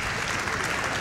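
A brief burst of dense clapping from a crowd at a speedrunning marathon event, loud and continuous for about a second.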